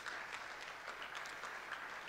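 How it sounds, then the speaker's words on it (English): A conference audience at a main-stage tech event claps for a panelist coming on stage. The steady applause sounds somewhat distant and quiet. "Big applause to Ahmed, please"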